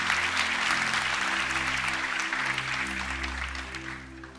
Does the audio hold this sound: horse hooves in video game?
no